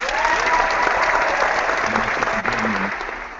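Applause at a celebration party, a steady, fairly loud wash of clapping throughout with faint voices underneath.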